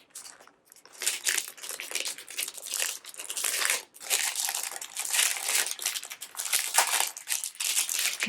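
Plastic wrapping around a handbag-subscription bracelet crinkles and crackles continuously while being handled and unwrapped, close up, in steady bursts.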